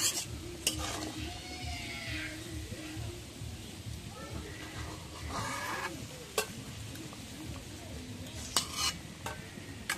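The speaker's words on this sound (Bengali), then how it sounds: "এখন মাছটা ডাইকে দিয়ে একটু কষায় নেই" Fish braised in a pan for a Bengali green banana curry, sizzling steadily with repeated sharp spatula scrapes and clanks against the pan, and a voice now and then underneath.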